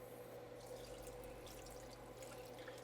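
Tap water running steadily over a whole raw chicken in a kitchen sink, a continuous quiet splashing with a low hum beneath it, and no voices.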